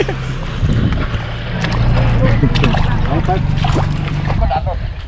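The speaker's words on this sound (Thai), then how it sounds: "มาฮอดมาถึงโดยรถแท็กเตอร์คูบูต้า หกร้อยสี่สิบแรงม้า" A Kubota tractor's 640-horsepower diesel engine rumbles low and steady close by, growing slightly louder, while voices talk over the noise.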